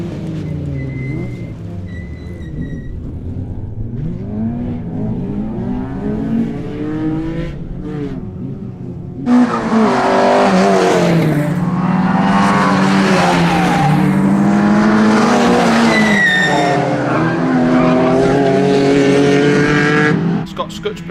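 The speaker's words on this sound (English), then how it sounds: "The historic B final sees some very close racing from the start." Race cars, including a Vauxhall Vectra, Minis and a Peugeot 205, battle closely at Blyton circuit during a historic rally final, engines revving hard and tyres squealing, growing louder and denser partway through as the pack passes.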